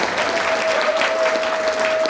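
An audience of church elders and spouses at a Methodist retreat at a resort applauds a pastor's saxophone performance, with sustained, moderately loud clapping throughout and a faint steady tone running beneath it.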